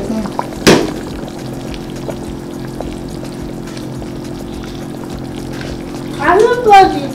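Water is poured in a steady low stream, with a short knock at the start and a person speaking briefly near the end.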